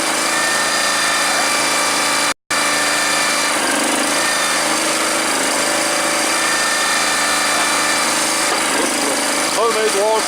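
A salvaged Honda small engine fitted to a welded homemade log splitter runs at its first start with a continuous, steady near drone. It holds constant throughout, broken by one very brief dropout.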